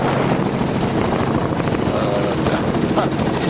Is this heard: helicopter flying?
yes